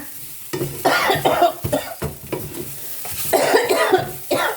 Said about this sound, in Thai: เดี๋ยวขอคั่วก่อนนะคะ